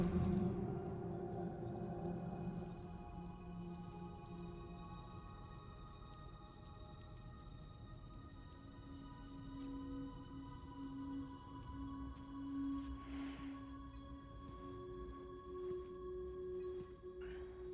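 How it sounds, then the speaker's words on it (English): Rain falls in the video game Death Stranding 2 as a faint, steady patter of raindrops, with soft sustained tonal hums underneath throughout. "Those raindrops are falling on my head."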